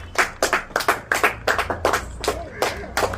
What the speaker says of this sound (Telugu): కంగ్రాట్స్. క్లాప్స్ కొట్టండి